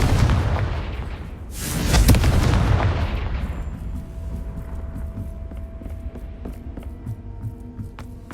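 A Confringo fire spell explodes in Hogwarts Legacy, a loud booming burst that swells and rolls for a couple of seconds before fading into a steady low rumble and hum, with faint tonal ringing lingering afterward.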